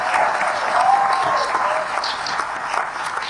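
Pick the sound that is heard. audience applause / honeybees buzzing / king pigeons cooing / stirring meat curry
audience applause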